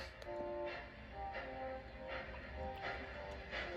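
A steam locomotive puffs slowly forward through a dark mine tunnel, with soft, evenly spaced chuffs over a low, steady rumble, heard faintly and without voices.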